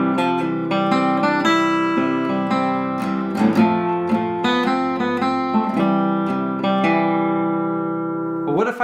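Battle Hymn of the Republic played on a keyboard-like instrument with chords, steady rhythm and a clear melody line, loud and close, about nine seconds of music with no talking.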